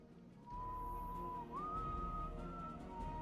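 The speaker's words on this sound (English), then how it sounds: "Why are you whistling the cheese song?" A character in the video game Destiny 2 whistles a short tune as a clear, quiet melody of held notes over a low ambient hum.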